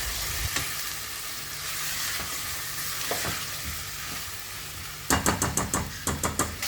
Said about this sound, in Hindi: अब ये मैंने चिकन डाल के मैं इसको फ्राई कर रही हूँ